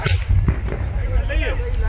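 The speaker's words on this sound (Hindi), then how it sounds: "ट्रक में आग लगी और सिलेंडर में जोरदार धमाका होता हुआ नजर आया, जिस धमाके की आवाज आप सुन रहे हैं।" Gas cylinders in a burning truck at a Bareli gas agency go off in loud, sharp bangs over a steady roar of fire and background noise.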